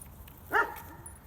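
A puppy being trained for protection work gives a single short bark mid-play, close by and fairly loud over a steady low background hum, with no talking.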